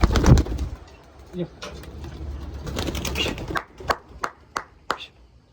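A pigeon let go by hand coos softly near the start, then its wings clatter in a series of quick sharp flaps as it takes off, with a voice speaking over part of it.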